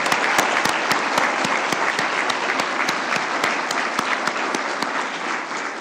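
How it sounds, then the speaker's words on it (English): Crowd at a technical college's State of the College event gives a loud round of applause for a coach, sustained dense clapping with sharp individual claps standing out throughout. "a loud round of applause for Coach Q"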